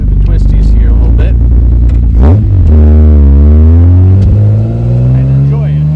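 A 1956 Jaguar XKSS recreation built by Lynx drives loud and close along a twisty road, its engine note dropping on a shift and then climbing steadily as it accelerates, with someone talking over it.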